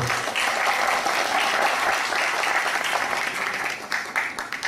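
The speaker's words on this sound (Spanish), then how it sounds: "Un aplauso para la compañera." Steady, loud audience applause at a humanities conference plenary session runs through the whole stretch with no break, dense clapping from a large crowd under a faint voice.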